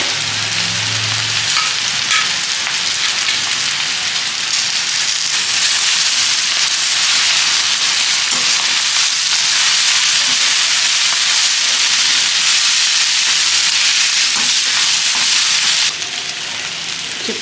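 Drumstick leaves with onion and a little turmeric fry in a pan, making a loud, continuous hissing sizzle that intensifies after a few seconds and holds steady before easing slightly at the end.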